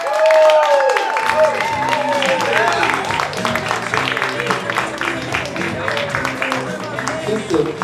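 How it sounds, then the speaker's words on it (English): A comedy show audience keeps applauding and cheering, a dense crowd of clapping and voices sustained for several seconds after a musical sting fades at the start. "Keep the applause going,"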